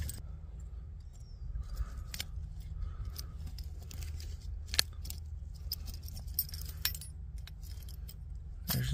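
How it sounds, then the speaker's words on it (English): A bunch of keys found at a campsite, jangling in a hand with repeated metallic clinks and rattles over a low outdoor rumble, close by and irregular in rhythm. "just found somebody's keys."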